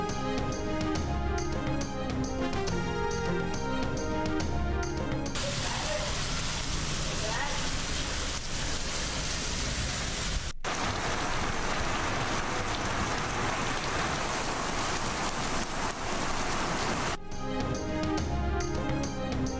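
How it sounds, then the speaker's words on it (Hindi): Heavy monsoon rain pours down in Islamabad and Rawalpindi, a dense, continuous hiss filling the scene, set between stretches of loud news music with rhythmic beats at the start and end. "इस्लामाबाद और रावलपिंडी में शदीद बारिश।"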